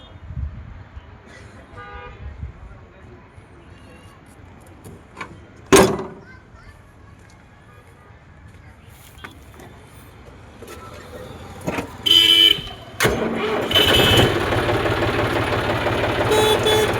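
A vehicle horn toots in short blasts over a rumbling engine, with a sharp clunk and people talking nearby.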